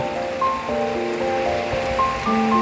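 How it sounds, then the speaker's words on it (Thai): The year's first rain falls as a steady, dense hiss throughout, with clear melodic tones sounding over the downpour. "ฝนตก ฝนครั้งแรกของปีนี้เลยนะครับ"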